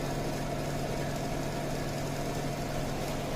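A DC shunt motor runs under mechanical load at about 1300 RPM on a test bench, giving a steady, continuous electrical hum with a whining tonal drone that stays even throughout, with no speech.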